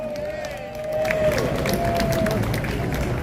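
Audience at a live steelpan jazz concert claps and cheers, applause swelling midway and holding steady amid crowd babble and a voice over the noise.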